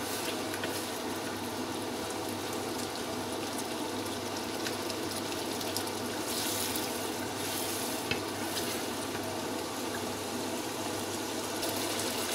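Tomatoes and spices sizzle and fry in a pan for chicken pulao after a little water is added, a steady bubbling hiss with occasional stirring scrapes throughout.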